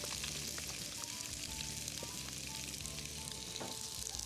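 Chicken wings and drumsticks sizzling in oil on a Blackstone griddle, a dense, continuous frying crackle with small pops, heard close but at low level and without talk.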